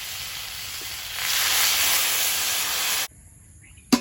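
Water poured into a hot frying pan of Bengali fish curry with tomato, ginger and green chilli bursts into a loud, steady steaming hiss for about three seconds, then cuts off abruptly, ending with a brief sharp clatter.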